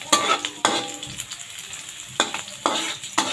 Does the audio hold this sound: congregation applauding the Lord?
no